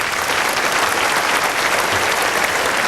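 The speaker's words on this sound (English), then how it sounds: "let's give them a little bit of round of applause" Audience applause at the 2002 Blair County Sports Hall of Fame ceremony: dense, steady clapping from many hands, sustained evenly for about three seconds with no talk over it.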